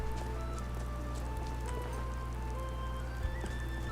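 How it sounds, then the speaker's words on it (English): Rain falls in Skyrim as a steady, even patter of drops over a constant low hum, with a faint scattering of hoof-like taps and one small knock near the end. "It is raining and cold."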